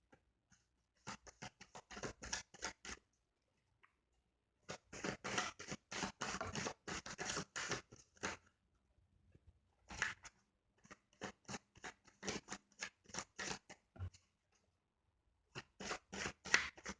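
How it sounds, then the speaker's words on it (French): Tarot cards shuffled and laid down on a table in quick bursts of crisp papery rubbing and slapping, with short pauses between clusters, close and fairly soft, no talking. "on va recouvrir nos cartes pour voir si on peut préciser un peu le message"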